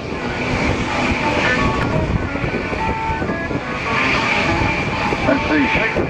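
Jelly Belly Express aircraft running along the runway at an air show, a steady loud engine drone with wind buffeting, while people talk over it.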